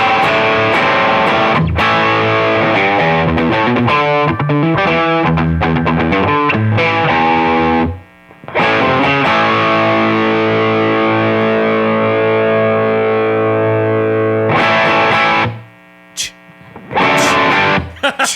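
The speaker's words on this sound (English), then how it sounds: "That overdrive sounds a lot better than I thought it was going to sound." An electric guitar played through a Barber Electronics Gain Changer overdrive pedal on a Gibson SG gives loud, driven chords and sustained riffs, ringing out with brief pauses between phrases.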